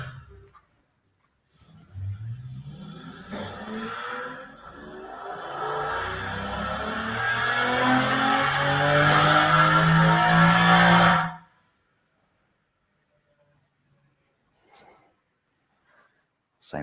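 A car engine revs up, rising in pitch and loudness for several seconds, then cuts off abruptly into near silence as it decelerates.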